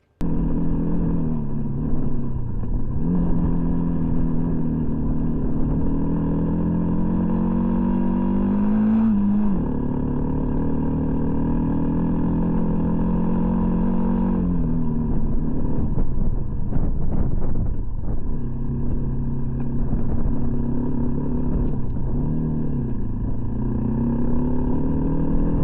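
An air-cooled four-stroke fuel-injected 250 motorcycle engine drones steadily while riding, its pitch rising and dipping with throttle changes, heavily buffeted by wind noise, with no talk.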